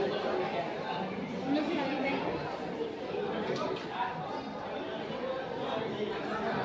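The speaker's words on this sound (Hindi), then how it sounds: "गजब का भीड़ है, गजब का।" Dense murmur of many voices fills a packed, sold-out cinema crowd, a steady close wash of overlapping chatter with no pauses.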